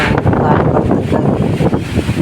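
Strong gusty wind buffets an outdoor microphone during an evening windstorm with rain nearby, producing a loud, continuous, rumbling roar with uneven surges throughout.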